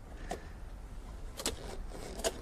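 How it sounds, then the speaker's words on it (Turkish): Manual roof opening on a modified Toyota MR-S roadster, heard as a few separate short clicks and latch clunks spaced about a second apart over a quiet background, with no talking. "Tavanı da açalım."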